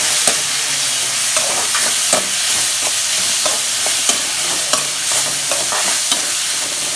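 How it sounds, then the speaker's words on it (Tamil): Finely chopped tomatoes sautéing in a pan for anchovy dry fish thokku, a loud continuous sizzle broken by frequent light scraping and tapping of a spatula stirring them. "ரெண்டு தக்காளி கட் பண்ணி வச்சுருக்கேன் பொடியாக அதையும் போட்டுக்குவோம் போட்டு நல்லா வதக்கிக்கலாம்"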